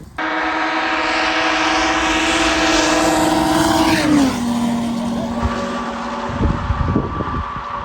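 A Ski-Doo Turbo R and a Polaris Boost Assault 146 snowmobile race along a trail, their engines wailing loudly and close by. A high steady whine drops sharply in pitch partway through, and rougher engine bursts follow.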